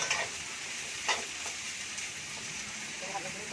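Egg, carrots and capsicum fry in a kadai for chicken biryani, giving a low, steady sizzle with faint stirring clicks, close but quiet.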